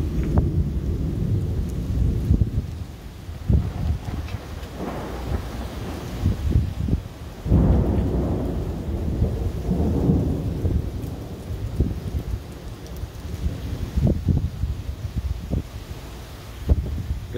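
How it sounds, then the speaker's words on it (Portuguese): Steady rain with low rumbling thunder rolling through in Tampa Bay, dense and continuous, with gusts of wind buffeting the microphone. "Chovendo."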